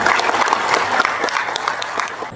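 Short, brisk applause from a crowd at a televised debate, clapping loud and close throughout the two seconds with no talk over it.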